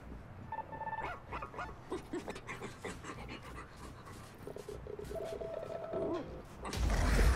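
A robotic dog companion in the ReCore video game barks, pants and yips amid whirring mechanical creaks, fairly close, with game effects swelling at the end.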